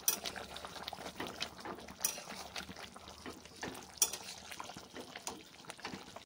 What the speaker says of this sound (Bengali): এবার একটু নাড়াচাড়া করে নামিয়ে নেব